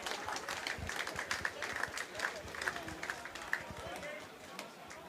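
Distant clapping and crowd murmur at a Richmond v Sedgley Tigers rugby match as injured players come off, a continuous spread-out patter with a commentator talking over it.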